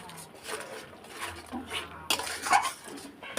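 Spices with turmeric and salt are stirred in a pan with a utensil, giving a few soft scrapes and light metallic knocks against the cookware. The strokes are faint and uneven, ending in a sharper clink.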